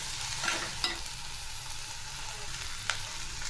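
Fenugreek leaves and yellow moong dal are stirred in a hot pan, giving a steady close sizzle with a few light scrapes and taps. The sound runs continuously for a few seconds, with no voices.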